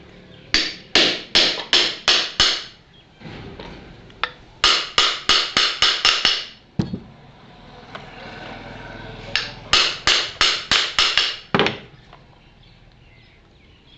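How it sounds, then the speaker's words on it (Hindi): A hammer strikes a nut during the fitting of a ceiling fan motor. Sharp metallic taps come in three quick bursts of five or six blows each, close and loud, with brief pauses between the bursts. "अभी मैं इसको बराबर से ठोकूंगा"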